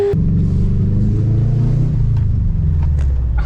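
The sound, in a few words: Subaru GC8 track car engine while driving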